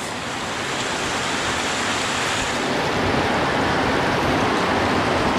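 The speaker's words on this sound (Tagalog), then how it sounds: "Yun, tamang-tama umulan." Steady rain pours down outdoors as a dense, even hiss that grows slightly louder over a few seconds, with no voices.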